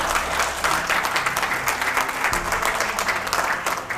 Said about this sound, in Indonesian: Sekarang Anda tepuk tangan